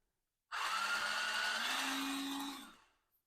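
A LyriFine waterproof electric spin scrubber switches on, and its motor gives a steady, close, high whine for about two seconds before spinning down to silence.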